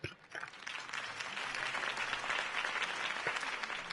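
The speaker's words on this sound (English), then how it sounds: "could have heard that applause" Steady applause from a crowd in Batman: The Telltale Series fills the whole stretch, dense and sustained at a moderate distance.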